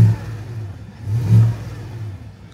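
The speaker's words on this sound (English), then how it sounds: "Give it a couple revs." A 2025 Chevy Suburban or Tahoe's 6.2-liter gas V8 revs up twice in quick succession, a deep throaty roar swelling and falling back to idle, fairly close.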